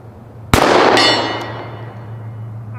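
A bullet strikes a steel turkey-shaped target plate, giving one sharp, loud metallic clang that rings on and slowly fades, with a second fainter ping shortly after.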